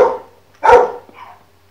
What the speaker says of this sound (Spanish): no se escucha demasiado el ladrido de mi perro